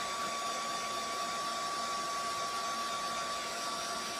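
A small heat gun on its low setting blows over a plastic diorama background piece, producing a steady, even whirring hiss with a thin tonal whine that holds without pause, free of speech.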